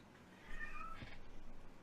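A cat gives a soft, short meow at a distance over a quiet, hissy room background.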